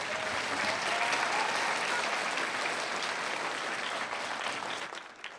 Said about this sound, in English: please join me in giving these young people a wonderful round of applause